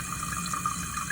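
A toilet tank refills through a Fluidmaster 400ARHRK fill valve with a steady hissing rush of water, constant and close.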